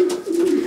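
A racing pigeon in a Polish club loft coos up close, a short, loud, throaty hum that rises and rolls in a couple of pulses, alone without talk.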